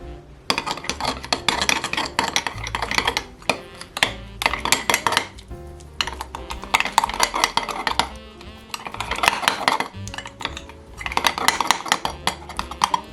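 Almond flour pancake batter being mixed in a bowl, with close, rhythmic bursts of utensil scraping and clinking against the bowl, repeated steadily with short pauses and no talking.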